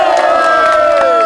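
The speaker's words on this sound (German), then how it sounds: "nochmal Applaus für Heiko" A crowd at a fan meetup cheering and shouting for Heiko, a loud, dense wall of voices without a break, close and sustained.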